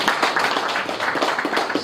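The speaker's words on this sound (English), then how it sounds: "You can clap for Dan Martin." An audience at the official launch of an examination centre claps for a guest, a short burst of steady, fairly loud applause with no talk over it.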